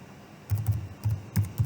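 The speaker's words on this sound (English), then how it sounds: "Let's type it again." Keys on a computer keyboard are struck in short quick bursts, close and clear, with brief pauses between the clusters of typing.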